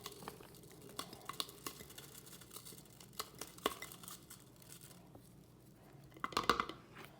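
Brown sugar is loosened and scraped for cookie mix in a jar, giving soft scattered scrapes and light clicks at close range, with a louder crunchy cluster near the end; no one speaks.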